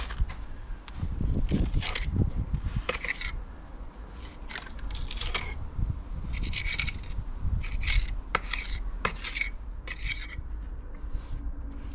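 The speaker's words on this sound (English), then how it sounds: "I need my little pointing trowel, I think." A small pointing trowel scraping and rubbing mortar onto a drain, with repeated gritty scrapes and rasping strokes in irregular bursts, close and fairly loud, with occasional sharper taps between them.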